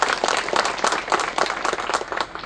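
A crowd at a public event for the Kumbhavde dam applauds villagers, sustained dense clapping from many hands filling the space at a steady, lively pace with no voices on top.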